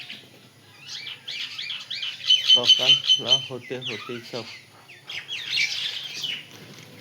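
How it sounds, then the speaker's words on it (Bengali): Small birds chirp and tweet around a home in the early morning, a busy scatter of calls with a burst of rapid repeated notes near the middle, while a person talks over them. "কিচির মিচির করে"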